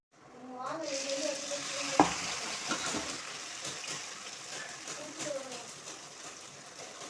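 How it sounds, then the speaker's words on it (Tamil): Vermicelli drops into hot oil for a mixture snack and erupts into a loud, dense, continuous frothy sizzle with a sharp clink near the start, slowly easing but staying busy throughout. "இப்போ பாருங்க நான் எண்ணெயில் போட்டு எடுக்க போகிறேன்"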